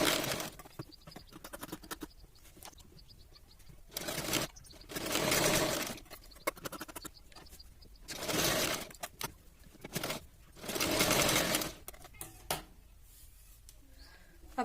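A sewing machine stitches the bottom seam of a princess cut blouse in several short bursts of fast, loud whirring, separated by quieter pauses with handling sounds.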